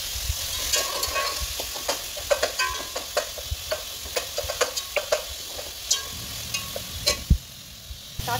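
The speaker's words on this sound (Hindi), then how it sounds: "इस टमाटर की हम एक सॉस तैयार करेंगे। हमें टमाटर को थोड़ा फ्राई करूँगी" Tomatoes frying in a pan for a sauce, a soft sizzle broken by a regular series of sharp clicks and taps, close and fairly even in level.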